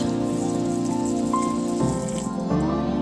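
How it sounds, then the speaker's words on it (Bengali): Water poured from a container onto 500 grams of sugar to start a sugar syrup for cham cham sweets, a steady, continuous near splashing stream with its tone shifting as the vessel fills, no talk. "চিনি আর দিয়ে দিচ্ছি আড়াইশো এমএল জল"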